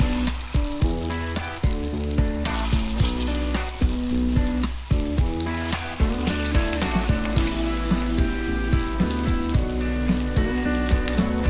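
Potato tikki patties for ragda pattice crisping on an iron tawa, a steady loud sizzle with crackling frying and faint stirring throughout, alone without talk.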